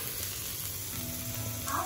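Green chili, chopped garlic and other ingredients frying in a pan for mayonnaise cheese pasta, giving a steady, moderately loud sizzle with faint stirring clinks, heard alone without talk.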